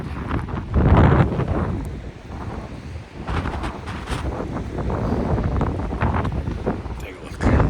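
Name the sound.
wind on a snowy beach during a blizzard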